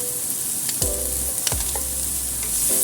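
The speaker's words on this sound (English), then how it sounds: "Now we stir fry the mixture for about 1 minute." Long green bean strips stir-fry with red hot pepper and salt in a hot pan, a steady sizzle broken by two sharp spatula strokes against the metal, no talk.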